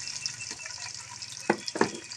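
Chopped onions fry in a hot pan, giving a steady close hiss of sizzling broken by two sharp clanks of stirring near the end.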